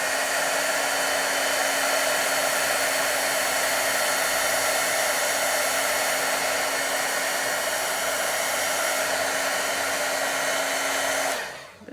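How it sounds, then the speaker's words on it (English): A heat gun blows hot air over gel medium in a loud, constant close-up roar that holds steady for several seconds before cutting off abruptly at the end. "Heat gun does get hot, so you want to make sure you're doing it away from your fingers."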